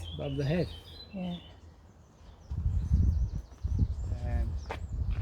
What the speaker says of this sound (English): Hear the birds chirping away